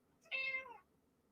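A single cat meow, clear and close, rising then fading over about half a second in an otherwise quiet room.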